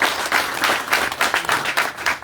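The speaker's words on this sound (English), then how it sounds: "Clap for yourselves." An audience at a political leaders' meeting with Soroti city delegates claps in a brisk, uneven burst of applause, close and loud, with no speech over it.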